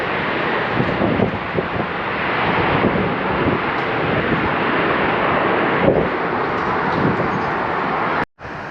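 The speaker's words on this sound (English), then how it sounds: "You can hear the planes taking off." Aircraft taking off from a nearby airport, heard from a park beside the LMU area in Westchester, Los Angeles: a steady, loud broadband engine roar that holds throughout with some wind buffeting and no talking.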